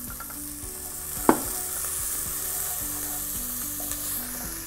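Chopped carrots sizzling steadily in a hot pan, a dense continuous fry with one sharp utensil clack partway through and no voices.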